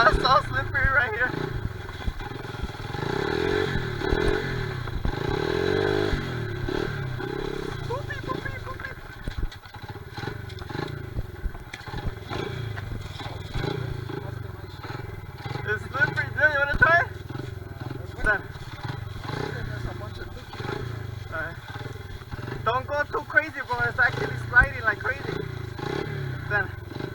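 Honda XR70R pit bike engine running on slippery ice, a steady mid-pitched motor drone with revving swells and clatter throughout, heard under frequent nearby talking.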